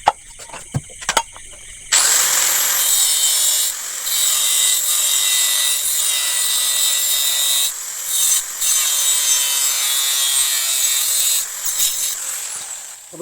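A square metal tube is sawn by hand in a home workshop, the blade rasping in long steady strokes with brief pauses between them, loud and close with no voices.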